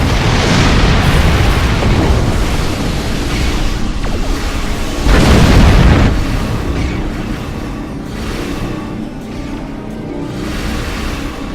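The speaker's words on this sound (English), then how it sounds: "That explosion killed 2 of my fighters." Loud explosions from a space battle in the video game Star Trek Online, with a sharp burst near the middle standing out from a dense, continuous rumble of combat noise.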